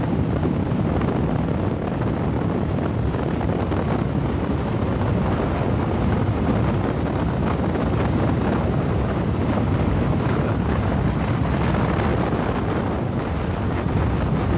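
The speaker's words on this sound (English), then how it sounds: "I got a feeling it's going to be super windy up here" Strong wind roars steadily against a rider's helmet microphone on a cold motorcycle ride over Vasco Road, a loud, unbroken broadband rush that fills the whole stretch with no talking.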